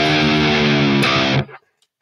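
An electric guitar played through a Swollen Pickle fuzz pedal gives a loud, thick, doomy distorted chord that rings and then cuts off abruptly.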